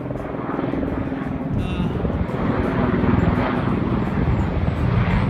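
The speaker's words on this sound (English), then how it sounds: "Helicopter flying over." A steady low rotor-and-engine drone passes overhead, loud and continuous, swelling slightly as the aircraft draws nearer.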